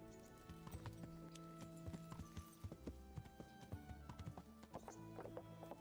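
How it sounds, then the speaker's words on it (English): A horse's hooves clip-clop steadily over the ground in the video game Kingdom Come Deliverance, with an even trotting rhythm under background music. "I ride my horse around town because I'm better than everybody else."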